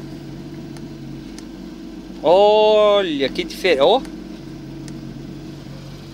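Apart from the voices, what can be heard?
Porsche GT3 engine revving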